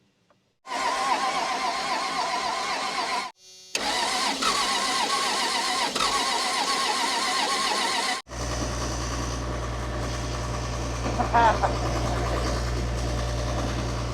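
A Cummins diesel engine that has sat for years is cranked in several long, loud, steady bursts by the starter, separated by brief pauses, and then a lower rumbling drone follows, heard close up with no talking.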